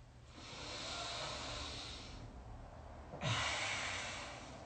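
Slow, deep yoga breathing in a studio class: a long audible airy breath, a brief pause, then a second breath that starts with a sharper nasal onset, all close and unaccompanied by talk.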